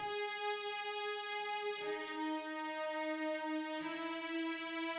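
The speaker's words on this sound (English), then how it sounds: "And then we welcome back the guitar, but a lot of reverb on it now." Reverb-heavy guitar layered with a sustained cello in a produced song, steady harmonic tones holding across the clip with a note change near two and four seconds, no voices.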